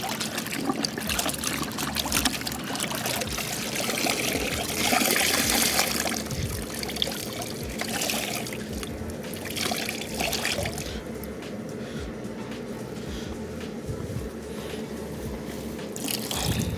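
Drying rag soaking in a 5-gallon bucket of water during a car wash in Arizona heat, with continuous trickling and sloshing water close by, steady throughout with a brief louder splash near the middle.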